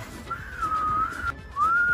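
A person whistles a long, steady, high sustained tone that holds, breaks off briefly, then rises into a second held note, heard clearly over a low background hum.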